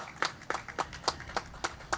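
A single person clapping in a small room, about eight sharp, separate claps spaced roughly a quarter second apart, fairly close and moderately loud with no talk.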